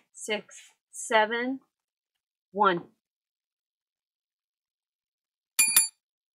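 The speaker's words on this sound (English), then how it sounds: "We're ringing the bell." A short, bright bell ring near the end, following a few brief spoken phrases separated by silence.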